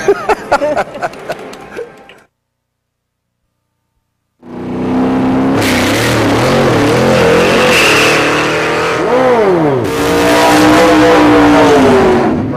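A drag race car launches and accelerates hard after a stretch of silence, a loud close engine howl rising through gear changes, preceded by a few sharp mechanical clatters.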